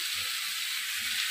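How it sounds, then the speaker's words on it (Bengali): Fried spring onion stalks go into a spice paste in a hot pan for a puti fish curry, giving a steady, even sizzle and hiss that runs unbroken with no talking. "পেঁয়াজ কলি ভাজাগুলো আমি দিয়ে দিলাম মশলার সঙ্গে"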